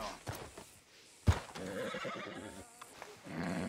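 A horse in Red Dead Redemption 2 neighs in a short, loud whinny near the middle, with quieter hoof clops and ambient game noise around it.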